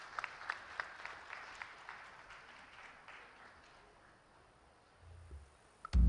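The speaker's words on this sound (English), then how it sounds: "Can we have a huge round of applause for him" An audience claps at a moderate distance. The applause tapers off over a few seconds into near quiet, then ends with a brief thump.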